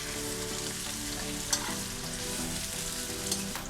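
Meat browning with onion and garlic in a pan gives a dense, even sizzle close by, with a couple of faint utensil taps and no voices.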